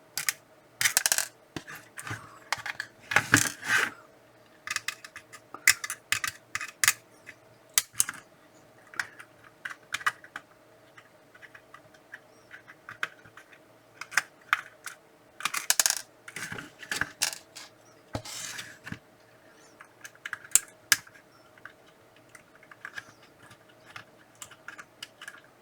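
Someone types on a mechanical keyboard: bursts of sharp, clacky keystrokes come in irregular clusters with short pauses, close and crisp over a faint steady hum.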